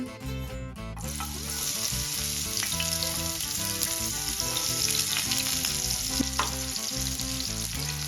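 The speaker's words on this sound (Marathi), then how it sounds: "आता इथे गॅसवर मी कढाई ठेवलेली आहे त्यामध्ये पाच ते सहा चम्मच तेल टाकलेलं आहे आता आपल्याला बोंबील छान तळून घ्यायचे आहे" Bombay duck (bombil) fish fries in hot oil in a kadhai on a gas stove, a dense continuous sizzle with brief bubbling bursts, alone and fairly close, while steady background music plays underneath.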